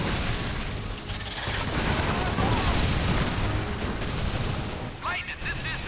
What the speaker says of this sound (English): This is a decent shotgun.